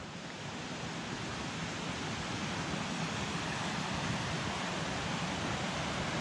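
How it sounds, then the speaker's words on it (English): Steady rushing of creek water beside a river trail on the North Fork Skokomish in the Olympic mountains, a dense, even wash of flow with no voices. "I hear a lot of water."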